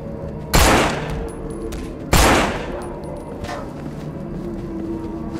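Two loud pistol shots about a second and a half apart ring out in the No More Room in Hell zombie game, each followed by a decaying echo, with a fainter third report later over steady game ambience.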